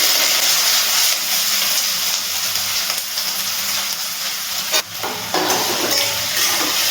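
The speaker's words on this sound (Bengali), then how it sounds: "এবার দিয়ে দিচ্ছি কেটে রাখা পেঁয়াজ।" Chopped onions sizzle in hot garlic-infused oil for chicken keema masala, a loud, dense frying hiss that runs steadily throughout, with a brief dip near the end.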